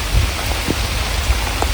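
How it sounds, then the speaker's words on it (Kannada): Steady outdoor rain in a village, falling on surfaces and leaves around a drumstick plant, a loud, dense continuous hiss with scattered heavier drop patters, and no voices. "ವಿಡಿಯೋ ಸ್ಟಾರ್ಟ್ ಮಾಡಿದ ತಕ್ಷಣ ಮಳೆ ಬರ್ತಾ ಇದೆ"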